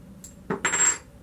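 A metal first-player token coin from a board game is tossed onto a table, landing with two quick clinks and a short ringing metallic rattle, close and fairly loud.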